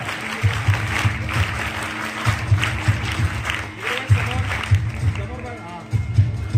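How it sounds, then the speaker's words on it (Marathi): An audience at a school's annual prize-giving function claps for a student prize winner, sustained applause with voices and a low rhythmic thumping beneath it. "याच्यासाठी एकदा टाळ्या वाजवायच्या आहेत"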